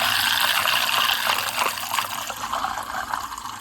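Soapy liquid splashing and churning steadily as a mixer whips soap into a vortex, a close, continuous wet swirl with brief splashes, no voices.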